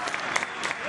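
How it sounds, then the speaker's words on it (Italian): Stadium crowd applauding a defender during Napoli versus Carpi, a 2017-18 summer preseason football match, a brief steady wash of distant clapping under a commentator's voice. "Grandi applausi per lui e vince anche il contrasto."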